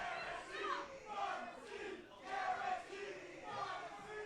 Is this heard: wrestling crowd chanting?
yes